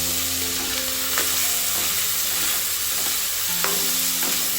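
Rice with turmeric and dry fruits being stirred in a hot pan, a steady sizzle broken by a few sharp scrapes of the spoon against the metal, close and moderately loud with no talking.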